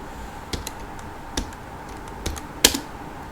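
A few scattered keystrokes on a computer keyboard, sparse clicks spaced out over a low steady background hum, with one sharper tap near the end.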